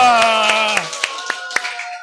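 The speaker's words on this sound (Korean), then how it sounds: "박수와 함께 함성!" At a Sunday morning church service, the congregation claps and cheers: a sustained raised voice, the leader's or the crowd's, runs under a handful of sharp, irregular claps that ring out close and distinct.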